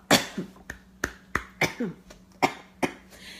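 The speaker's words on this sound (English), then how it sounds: "life is miserable, I'm about to cough" A string of short, sharp coughs, about eight in quick succession, close and clear with brief gaps between them.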